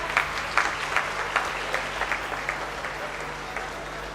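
An audience at a university orientation day ceremony claps in a steady round of applause, with individual claps standing out in a loose rhythm against the hall's background hum.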